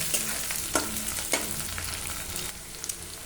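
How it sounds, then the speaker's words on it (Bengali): Whole green chilies frying in oil with onions for chana ghugni, a steady close sizzle broken by a few scraping stirs of the spatula, with no talking. "এবার এর মধ্যে আমি কটা কাঁচা লঙ্কা দিলাম, এই যে গোটা গোটা দিলাম।"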